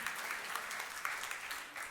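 Faint, distant applause from a church congregation, a brief soft wash of many hands clapping with no voices on top.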